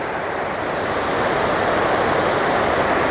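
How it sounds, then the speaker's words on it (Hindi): River water rushes steadily in the Marwan Valley near Tata Pani hot spring, Jammu and Kashmir, a loud, even broadband roar without pauses or voices. "देखिए दरिया का बहाव आप देखिए"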